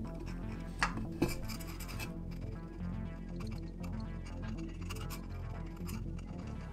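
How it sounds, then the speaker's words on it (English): Gentle scrubbing to loosen carbon buildup from a Volvo XC90 PCV part: a steady, close rasping rub runs throughout over a low background hum, with a couple of sharper clicks near the start. "I'm gently scrubbing to dislodge the carbon,"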